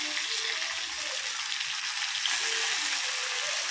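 Gongura (sorrel) leaves fry in hot oil for sorrel fried rice, giving a steady, close, broadband sizzle that holds evenly throughout with no voices.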